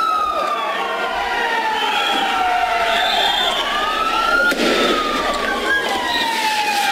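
An ambulance siren wails, rising and falling continuously over loud, noisy street commotion amid tear gas and thrown stones in Pichanaki, Junín, Peru, close and prominent throughout.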